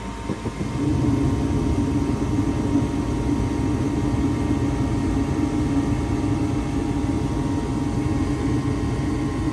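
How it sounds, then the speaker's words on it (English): 2007 Heil gas furnace as the gas valve opens and the burners ignite, a steady loud low roar that builds within the first second and then holds constant, no talking. "in a few moments, the gas valve opens and then the flames start to go through the heat exchanger"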